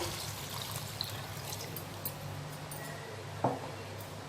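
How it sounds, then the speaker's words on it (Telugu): Measured water poured steadily into soaked rice in a pot while making spicy egg biryani; a continuous close pouring rush runs throughout with a brief clink near the end. "ఇప్పుడు నేను ఆల్రెడీ కొలిచి పెట్టుకున్నానండి వాటర్ని ఇందులో వేసేస్తున్నాను"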